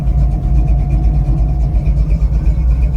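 A black 1940 Ford Coupe hot rod with a 351 Cleveland V8 rumbles steadily at close range, a deep, loud, continuous low throb with no voices.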